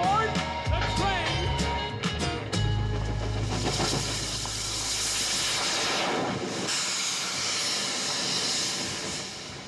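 A long steam-train hiss swells and holds under a children's train song, the singing voice and music running over it alongside a deep rumble and a few metallic clangs near the start.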